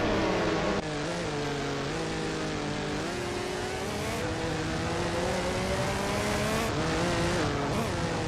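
Race cars roar past while overtaking during a race, engines whining and shifting pitch as they rise and fall, loud and sustained with several distinct passes.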